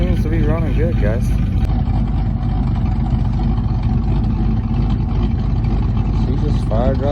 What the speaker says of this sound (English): She just fired right up, started idling like that